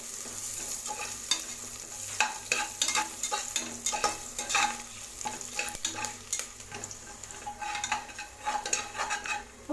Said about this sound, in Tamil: சேர்த்துட்டு பூண்டு லேசாக வதக்கி விடுங்க.